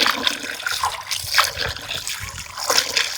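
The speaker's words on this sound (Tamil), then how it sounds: "இங்கே மீன் அலச ஆரம்பிச்சிட்டீங்க" Freshly cut fish being rinsed by hand in water, giving a steady trickling and splashing with soft sloshing bursts throughout, close and moderately loud, with no talking.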